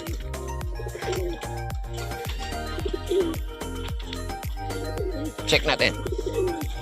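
Racing pigeons in a loft during a training session, giving repeated deep rhythmic coos close by, with someone talking over them.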